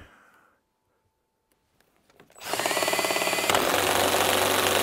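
DeWalt cordless drill straining under heavy load, starting after a quiet pause and then running loud and close with a harsh, rattling motor whine that stays sustained to the end.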